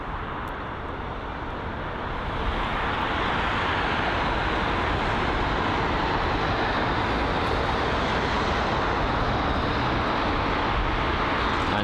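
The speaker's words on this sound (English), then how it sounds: "it is the Iberia A320 Neo from Madrid" An Iberia Airbus A320neo from Madrid at London Heathrow gives off a broad, steady jet roar that swells over the first few seconds and then holds loud and even, heard from a distance.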